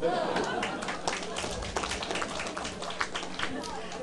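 Audience clapping at a political lecture, a dense burst of applause from a crowd that rises sharply and then fades to scattered claps, with voices over it.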